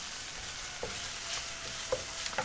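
Kimchi and ham stir-frying in a pan with sesame oil and onion for kimchi fried rice, a steady soft sizzle with a few light scraping stirs, quiet and close with no talking.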